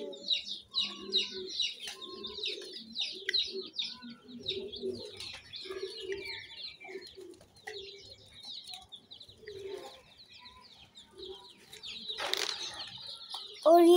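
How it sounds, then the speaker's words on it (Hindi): Newborn fancy chicks chirp in a cage while being given food, with many high, thin peeps overlapping near and far, interspersed with soft flutters and brief louder bursts. "और अब हम ऊपर वाले चूजों को खाना देते हैं।"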